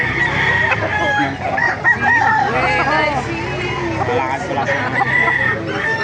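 Many roosters crowing and hens clucking at a busy poultry market stall, overlapping loud cock-a-doodle-doo calls near and far amid a dense crowd of birds.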